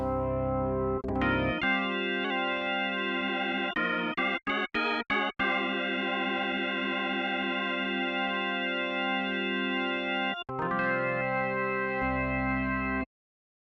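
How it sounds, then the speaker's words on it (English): A sustained Hammond-style organ chord synthesized in Phase Plant, with gritty overdrive and swirling chorus, plays alone, briefly broken by a few staccato stabs before holding again. "that's the basic Hammond sound"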